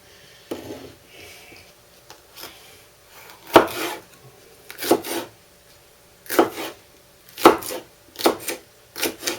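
A knife chops seafood soup ingredients into chunky pieces on a board, with about eight to ten sharp, unhurried cuts spaced irregularly, some louder than others, and no voices.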